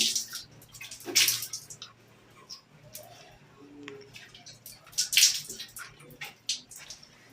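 Water splashes in irregular bursts as someone washes with soap, a couple of louder sloshes standing out among softer drips and trickles, fairly close and quiet overall.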